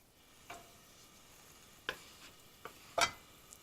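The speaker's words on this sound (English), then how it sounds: "Okay, it's boiling. Bring down the fire." Liquid for braised pork belly bubbles quietly in a pot, with a few scattered pops and crackles over a soft background hiss.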